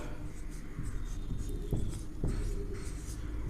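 Chalk taps and scrapes on a board in a classroom during a lesson on the solar system, several short strokes in quick succession with a teacher talking over them.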